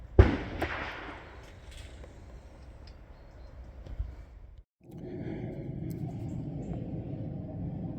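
Shotgun fire at clay targets on a sporting layout, two loud close reports with a rumbling tail between them, followed by a brief gap and a steady outdoor background.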